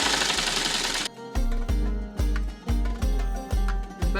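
Electric sewing machine stitching a blouse sleeve: a loud continuous whir for about a second, then a string of short rhythmic bursts as the needle runs in quick stops and starts, with no voices.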